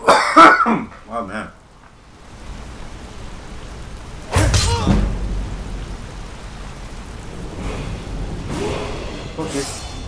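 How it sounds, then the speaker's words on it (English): A person coughs several times in quick succession near the start, with another harsh burst a few seconds later, between stretches of quieter room sound. "Oh man, something's making me cough."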